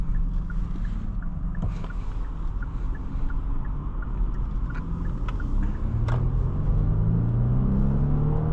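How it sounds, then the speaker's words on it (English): A 2017 Genesis G80 with the 3.8 engine accelerates from inside the cabin, a steady deep rumble that builds toward the end, with no talking over it. "Pretty quick, and that engine sounds really good. Has a very deep tone to the way it sounds."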